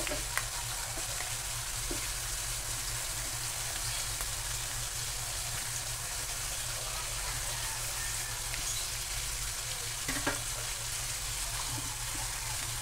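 Buttered mud crab frying with banana ketchup in a pan gives a steady, dense sizzle throughout, with occasional faint scrapes as it is stirred.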